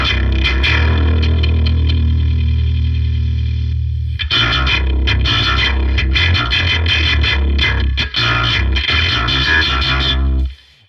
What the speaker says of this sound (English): that's if you really like the super gross distorted bass sounds